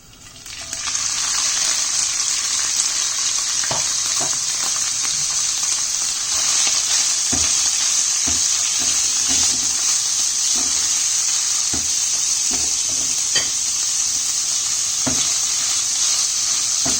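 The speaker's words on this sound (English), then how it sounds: "And when it starts to sizzle, we'll add the chicken in." Loud, constant sizzling of chicken frying in hot oil, with occasional soft clicks and knocks from stirring.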